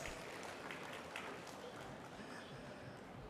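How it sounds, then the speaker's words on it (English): Applause from an investment expo audience for prize winners, a steady dense wash of clapping that holds evenly for a few seconds with no voices over it. "Let's give that a big round of applause for"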